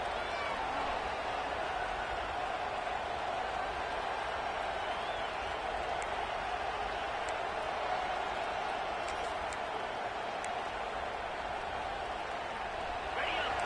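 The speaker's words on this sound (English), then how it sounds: "This offense trying to quiet the crowd on first and goal, and they are not cooperating." A big football stadium crowd roars as one steady wash of noise during a Texas A&M versus Georgia game, loud from the opening to the close with no clear voices above it.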